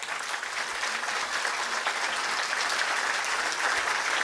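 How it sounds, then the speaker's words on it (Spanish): A congregation at an outdoor zonal gathering Mass claps steadily in a dense, sustained round of applause that lasts the whole few seconds, with no speech over it. "Le damos un fuerte aplauso."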